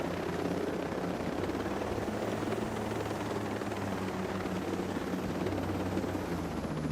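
Helicopter in the video game Ghost Recon Breakpoint: a continuous loud rotor thump and engine whine, steady and close for the whole stretch with no talk.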